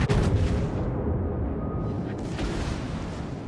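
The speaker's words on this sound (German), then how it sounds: "Die Sekundären sind jetzt auch fleißig am Schießen." Secondary battery guns of the battleship Großer Kurfürst firing in World of Warships, a dense, continuous rumble of booming shots that stays loud throughout with no voice over it.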